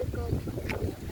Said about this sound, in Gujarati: જોરદાર વરસાદ ને વાતાવરણ જોરદાર વાયરો